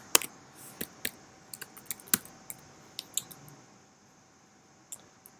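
Irregular bursts of clicking keys on a computer keyboard during an office meeting, a dozen or so sharp taps in quick clusters, then a pause and a couple of final strokes, fairly close and with no talking.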